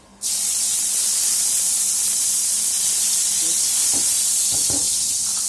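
Chilies drop into hot oil for shahi paneer and burst into a sudden loud, steady hissing sizzle that holds for several seconds, with a few soft clinks of a utensil near the end and no talking.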